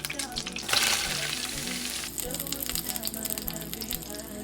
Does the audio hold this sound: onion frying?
yes